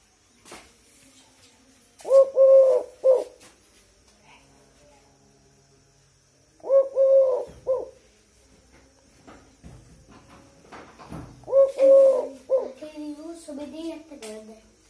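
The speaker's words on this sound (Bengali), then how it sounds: "দেখতেছেন ভিউয়ার্স কিরকম ডাকতেছে ধলগুনরে" A tame Eurasian collared dove coos close by in three separate phrases, each about a second long and spaced roughly five seconds apart, over a quiet background.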